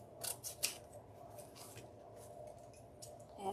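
Scissors snip deco mesh for a gingerbread Christmas wreath with a few quick, crisp cuts near the start and another at the end, over a quiet low hum.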